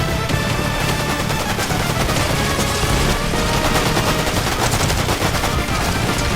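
Dense, continuous hand cannon gunfire and explosions in Fortnite, loud and relentless with no pauses.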